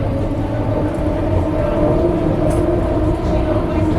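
A steady, loud rumble of a train in motion on a single-track line, heard from inside a car, with a constant low drone and no pauses.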